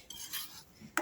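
A spoon stirring Bombay chutney in a metal pot, soft scraping and swishing followed by one clear, close clink of utensil against the pot.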